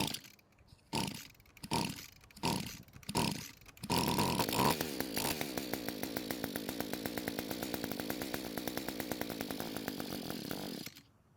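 An Echo string trimmer's small two-stroke engine first sputters through several rough, rhythmic attempts, then catches and runs steadily at a loud, buzzing idle for several seconds before cutting off abruptly.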